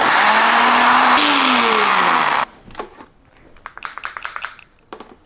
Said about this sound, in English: now all you have to do, pop into the blender and blend well